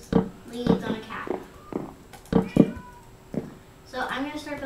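A cat in Minecraft meows several times in short bursts, mixed with people chatting; the meows are fairly clear and sit between the voices.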